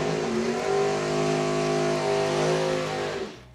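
Dragster race cars at a night drag racing event roar loudly and steadily, their engines revving with a dense, sustained growl that drops off abruptly at the end.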